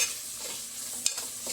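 Prawn biryani masala with tomato mixed in is stirred in a hot pan, giving a soft, steady sizzle. A spoon scrapes now and then, with one sharp click, close up and quiet.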